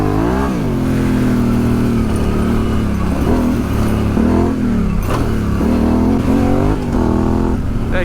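A Yamaha Tenere 700 motorcycle engine revs hard through the gears while being ridden off-road on single track, loud and close, with the pitch repeatedly rising and dropping across several shifts and no talking.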